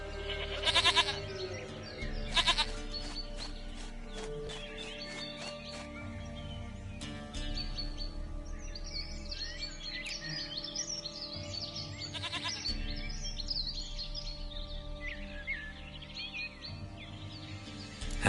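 Goats in The Witcher 3 bleat in short repeated calls, with birds chirping faintly behind them in an outdoor setting.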